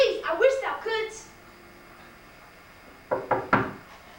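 Knocking sound effect in a 1998 high school stage production of Macbeth: a spoken line comes first, then after a quiet pause three sharp knocks ring out in quick succession, moderately loud in a hall.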